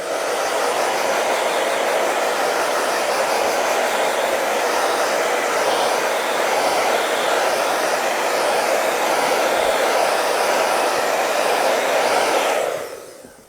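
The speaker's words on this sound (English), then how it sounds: "I'll be using a hairdryer again" Hair dryer blowing on a gel plate print, a loud steady broadband rush running about twelve seconds before cutting off abruptly, close to the mic with no talk.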